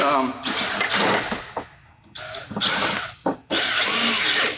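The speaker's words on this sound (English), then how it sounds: "I'm just going to go ahead and run those screws in on this first one" A power drill drives screws into wooden table slides in three loud whining bursts, each lasting about a second, with short pauses between them and some talk mixed in.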